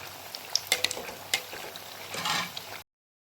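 Malpua pancakes fry in oil in a pan with a soft, steady sizzle, broken by several sharp clinks and scrapes of a utensil; no one speaks, and sound cuts off abruptly near the end.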